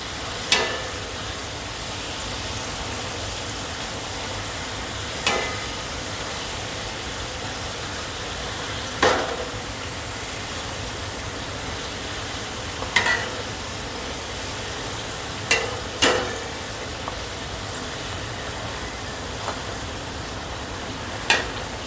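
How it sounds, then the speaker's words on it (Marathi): Karanji frying in oil on a low gas flame, a steady even sizzle throughout, with occasional brief clicks and taps of a utensil, close and continuous, no talk. "बारीक गॅसवर तळून घ्यायचे"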